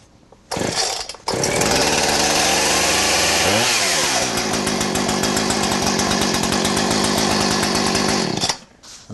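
Chainsaw that had been flooded starts up and runs loud and close at a steady high idle with a brief revving dip midway, then cuts off near the end, with no talking.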